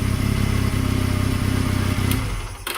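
2003 Honda Rebel motorcycle engine running with loose intake manifold bolts, a close, loud, rapid, even idle thump that cuts out near the end.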